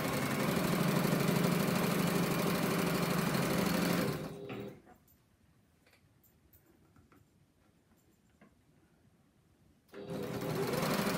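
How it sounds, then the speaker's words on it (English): A sewing machine stitches through layered quilt binding. It runs loud and steady at close range, stops for several seconds of near quiet, then starts running again. "we're going to line all these layers up and sew right off the piece"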